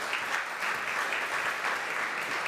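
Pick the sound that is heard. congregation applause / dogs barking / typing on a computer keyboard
congregation applause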